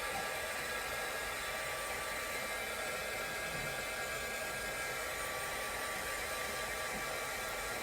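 Heat embossing tool blowing hot air to dry glued artwork in an art journal, a steady loud broadband whoosh that holds evenly throughout with no talk.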